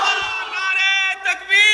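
A crowd of many voices roars Allahu Akbar in unison in answer to a Nara-e-Takbir call during a religious sermon, one loud, sustained chant lasting under two seconds.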